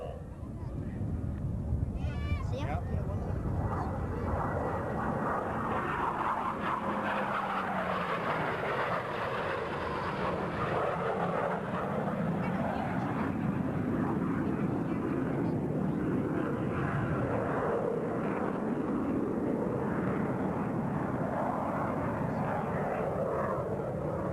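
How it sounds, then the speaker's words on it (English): Military jets fly formation rolls at a 1991 air show at Quonset Air National Guard Base, their loud, continuous engine roar washing over the field for the whole stretch with no break. "each pilot will roll his aircraft 270 degrees in ripple fashion"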